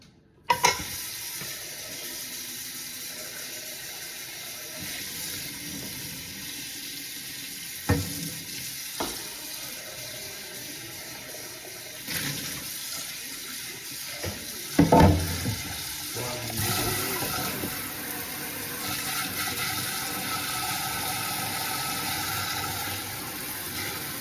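Tap water running into a sink while a pot is rinsed out, a continuous hiss and splash of flowing water with occasional clanks and knocks of the pot, with a few brief louder bumps.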